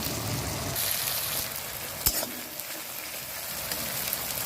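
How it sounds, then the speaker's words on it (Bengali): Eggs sizzle steadily in a hot pan while egg tarka is cooked, a continuous close frying hiss with one sharp crackle near the middle, no voices. "তারপরে আমাদের একটু ডিম দিয়ে ডিমটাকে আবার ভেজে নিই"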